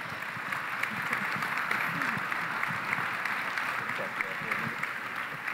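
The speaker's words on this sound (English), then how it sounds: "How about applause for the great panel?" A conference audience gives a panel a steady round of applause, with dense, even clapping that sounds somewhat distant and lasts the full clip without a break.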